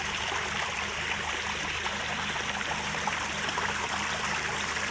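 Small mountain stream near Hot Springs, North Carolina: a steady, close rush and trickle of flowing water, continuous and even, with no voices.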